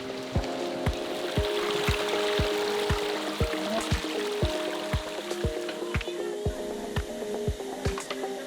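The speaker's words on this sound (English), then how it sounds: "Seems we have to cross the river and go through the river a little bit." A jungle river rushes steadily in Kenting National Park, Taiwan. A loud, even wash of water is broken by regular sharp clicks about every half second.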